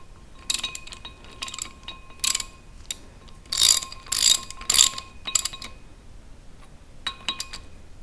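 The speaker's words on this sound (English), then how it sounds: "Alright, I'm just going to snug these with a wrench." A hand wrench ratchets while snugging transmission bolts on a 1979 Jeep CJ5 under restoration, giving bursts of close metallic clicking in irregular groups with short pauses between them.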